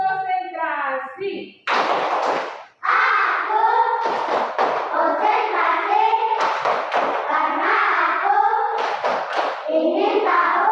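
Children in a classroom perform a rhythmic concentration clapping routine, sharp group claps landing in short bursts among loud chanting voices and a teacher's speech.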